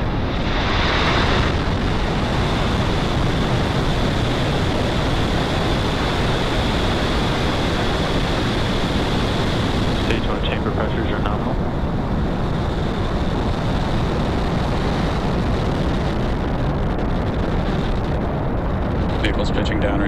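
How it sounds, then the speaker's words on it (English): Rocket engines ignite and roar through liftoff in the Spaceflight Simulator game, a loud, dense, continuous rumble that holds steady throughout, with a faint background tone fading partway through. "Ignition and liftoff."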